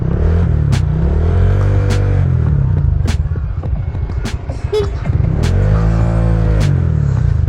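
A Honda Click 125i or Yamaha Nmax 155 scooter revs hard during a ride on the Marilaque mountain road. Its loud, close engine drones continuously and rises in pitch through repeated revs, with rushing wind throughout.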